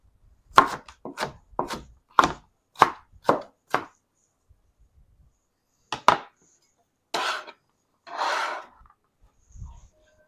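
Fresh garden vegetables being chopped for a summer pasta, a rapid series of about seven sharp knife strikes on a board, then a pause and a few louder, drawn-out cuts and scrapes, close and clear with no talking.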